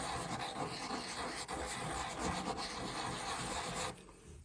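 Wood sanding on the end of a cello geared peg, a continuous dry rubbing rasp with quick back-and-forth strokes, close and quiet, stopping abruptly near the end.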